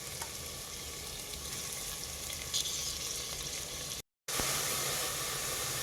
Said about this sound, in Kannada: ನೋಡಿ, ಈರುಳ್ಳಿ ಬೇಯೋಕ್ಕೆ ಒಂದು ಸ್ವಲ್ಪ ಉಪ್ಪನ್ನ ಹಾಕ್ಕೊಂಡಿದ್ದೀನಿ.